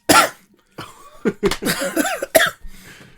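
A man on a casual podcast coughs sharply several times in quick bursts, close to the microphone, with rough throat-clearing and breathy hacks between them.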